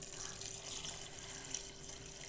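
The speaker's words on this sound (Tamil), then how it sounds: "இப்போ இதில் வந்து தண்ணி ஊற்றிக்கலாம்" Steady running water pours continuously into a pot for sambar, a smooth broadband hiss like a tap filling a vessel, close by with no voices.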